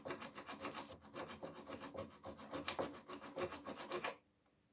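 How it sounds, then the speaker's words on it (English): A hand file rasps back and forth on wood while building a barn door, a series of close rhythmic scraping strokes that stops abruptly near the end. "So I'm going to try and file it off by hand."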